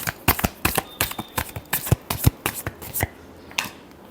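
Tarot cards are shuffled by hand in a quick series of crisp riffling snaps and soft slaps, roughly a dozen close, sharp bursts in an uneven rhythm with no talking.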